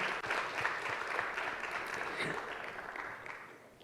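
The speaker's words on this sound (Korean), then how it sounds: "하나님께 영광의 박수 올려드리겠습니다." A church congregation in Jeju claps together during a Sunday worship service, a soft, roomy wash of applause that tapers gradually, with a faint voice under it.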